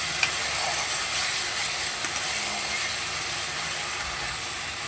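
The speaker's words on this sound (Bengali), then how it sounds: "মশলাটা দেখো সুন্দরভাবে কষানো হয়ে গেছে আর মশলা থেকে তেল ছাড়তে শুরু করে দিয়েছে" Spice paste mixed with turmeric frying in oil in a pan, a steady bright sizzle that holds evenly throughout, with a few faint clicks of stirring.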